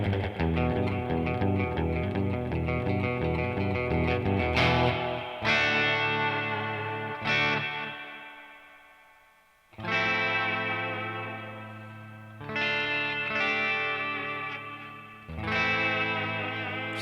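Electric guitar with a surf tone through a Boss Katana MKII amp with tape echo, strummed in loud ringing chords that swell and decay, with echo trailing each stroke and short gaps between phrases.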